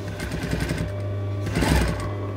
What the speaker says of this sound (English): Pop it under the machine, and about 2 or 3 mil in from the edge, you want a little line stitching.